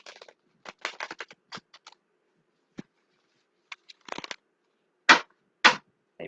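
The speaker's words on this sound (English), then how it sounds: "They riffle shuffle better than overhand shuffling." A tarot deck of flexible cards being riffle shuffled, heard as several quick, crisp bursts of fluttering card clicks separated by short pauses, close and fairly loud with no talking.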